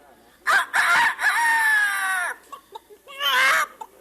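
A human voice mimics a rooster's crow, a long harmonic call stretched out for over a second, followed by a shorter second crow after a brief pause, in a radio drama.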